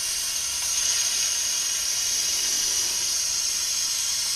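A vacuum coolant refill tool draws air out of the cooling system of a 2007-2013 MINI Cooper R56, giving a steady, even hiss that runs unbroken with no talk.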